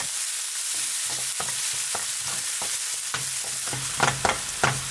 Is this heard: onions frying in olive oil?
yes